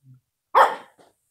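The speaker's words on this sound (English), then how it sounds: "What are you barking about?" A single sharp dog bark, loud and close, preceded by a faint low sound and followed by a short softer yip, then quiet.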